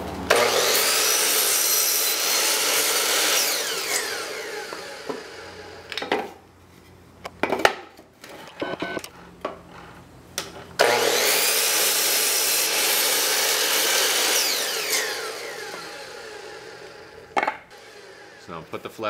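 Hand saw cutting a cedar board for a window box planter, two long sustained stretches of rasping back-and-forth strokes, loud and close, separated by a pause with scattered knocks and handling noises.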